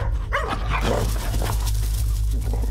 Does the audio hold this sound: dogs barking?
yes